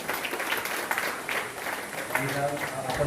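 An audience at a book launch for a retired IAS officer's autobiography claps in a moderate, uneven round of applause, with voices murmuring through it.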